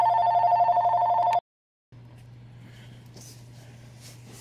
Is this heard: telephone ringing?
yes